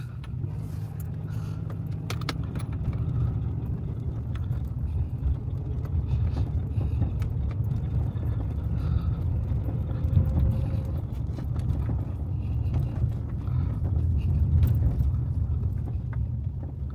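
A car drives along a small-town street, heard from inside as a steady low engine and road rumble with faint rattles and bumps, continuous and close.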